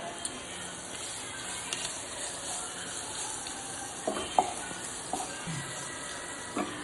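Prawns frying in a pan as ginger and garlic are added give a steady, soft sizzle and hiss, with a few light clinks and thumps near the end.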